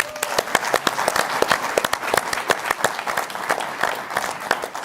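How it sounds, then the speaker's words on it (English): A studio audience applauds a New Zealand head of football arriving as a guest on a live football show, with dense, steady clapping that carries on loud throughout and has no voices over it. "Round of applause."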